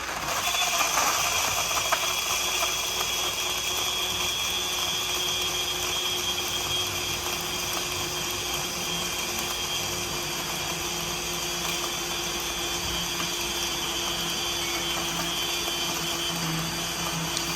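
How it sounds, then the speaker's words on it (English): A BlendJet portable blender blending a milk drink runs steadily for the whole stretch, a continuous whirring motor with a rattling, buzzy texture, close and even in loudness, no voices over it. "We blend."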